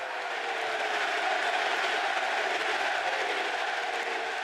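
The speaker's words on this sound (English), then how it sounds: "Great reaction from the crowd." A wrestling arena crowd at SummerSlam roars steadily through a brawl, a dense, sustained wash of cheering and noise from a large audience with no break.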